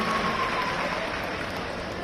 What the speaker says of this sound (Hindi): तालियों का उत्साह कमजोर नहीं होना चाहिए